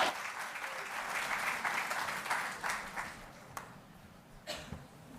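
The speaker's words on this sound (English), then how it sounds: "A round of applause, please." An audience at an African urban forests forum applauds as a speaker is welcomed to the stage, a dense, fairly distant wash of clapping that swells and then fades away over several seconds.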